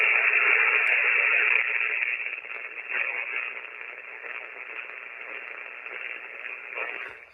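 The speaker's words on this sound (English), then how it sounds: "You can hear the grinding noise come back up in the background." Static from a 50 MHz amateur radio receiver with its noise blanker switched off and digital noise reduction still on: a steady, rough, grinding hiss fills the audio band, loud at first and then settling slightly lower, with no voices.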